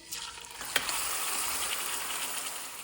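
Mutton sizzles and fries with whole spices over high heat, a close, continuous crackling hiss with a brief clink early on.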